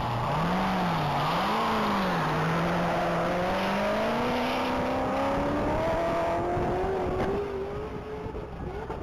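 A 2019 Corvette Z06 races at top speed at a Texas Mile event, its engine droning loud and continuous with a rising pitch as it accelerates down the runway, without any talking.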